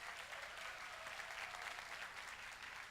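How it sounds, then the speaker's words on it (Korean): Steady applause from an audience at a university talk concert welcoming the provincial governor to the stage, a dense even wash of clapping at moderate level with no voices over it. "큰 박수 부탁드립니다."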